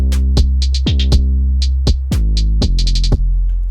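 A simple programmed beat made in Cubase plays alone: punchy kick and snare hits with a deep sustained bass line and bright hi-hat ticks, clean and loud over a few bars.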